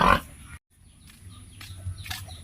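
A pig on a hog farm snorts once loudly up close, then grunts low and softly a few times amid faint chirping.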